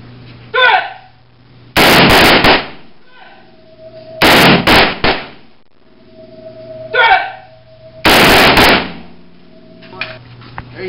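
AR-15 rifle shots at an outdoor shooting range: three loud, sharp cracks spaced a few seconds apart, each with a short ringing tail, with voices talking between them.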